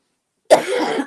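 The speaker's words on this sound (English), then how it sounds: "to work through this cough and this cold" A single close cough from someone with a cold, an abrupt burst after silence that trails into a rough, throaty exhale.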